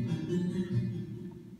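A sustained synthesizer pad through a reverb send on an ER-301 module, low and mid tones droning steadily with a soft, smeared tail and no voices.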